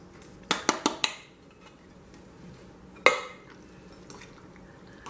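Beans tipped into a crowded bowl of cream cheese and chilies for chicken enchiladas, heard as a quick run of four clinks and knocks followed by a single sharper clatter, with quiet room ambience between.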